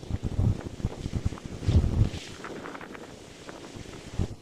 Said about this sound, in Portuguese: peço desculpas pelo vento, mas vamos pescar nessas condições